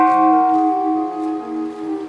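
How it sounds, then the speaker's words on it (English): A Buddhist temple gong in Bangkok sounds in the morning, a loud resonant metallic tone with layered sustained overtones that slowly decays and swells, ringing alone without speech. "Buddhist tradition is an early sounding of a temple gong,"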